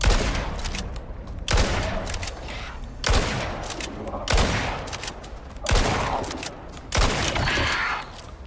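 Repeated bursts of gunfire as a player shoots a creature in the survival game Icarus New Frontiers, about six loud, sharp volleys spaced a second or so apart, each ringing out briefly before the next.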